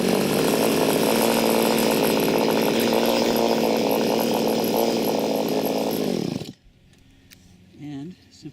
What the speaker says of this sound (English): Start the saw.